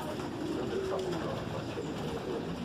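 A racing pigeon coos softly at a loft, a low rolling coo heard close against a faint steady background hiss.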